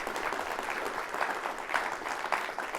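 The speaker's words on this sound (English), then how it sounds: "Let's give them all a round of applause." Audience at a pitch contest applauds the multimedia crew, a steady, moderately loud round of many hands clapping that holds evenly throughout with no voices over it.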